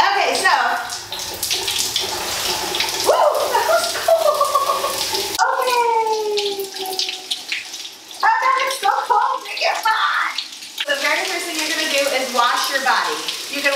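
Shower water running in a bathroom, a continuous hiss of spray heard throughout under nearly constant talking from a woman close to the microphone.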